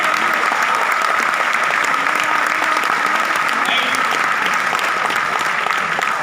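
Loud, sustained applause from an audience at a session in Bandra, Mumbai, welcoming a guest; dense clapping holds steady from start to finish with faint voices mixed in.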